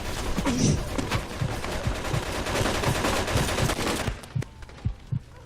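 Gunfire sprays from the side in Mafia II, a fast run of loud, evenly spaced shots, then a few slower separate reports as the burst thins out near the end.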